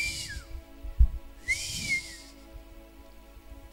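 A man whistles in imitation, giving two bright sliding whistle phrases separated by a soft thump, alone against a quiet indoor background.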